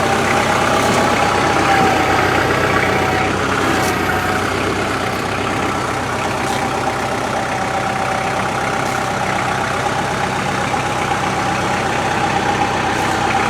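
A tractor engine idles and runs steadily at close range while hauling a heavy outdoor wood boiler, giving a continuous low rumble with a mechanical drone throughout and no pauses.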